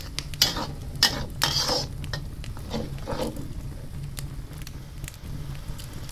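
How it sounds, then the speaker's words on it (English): Dry chili paste goes into a hot pan while cooking curry fish and squid, with a few sharp metal scrapes from stirring at first, then a steady low sizzle underneath that carries on throughout. "Put in the dry chili paste."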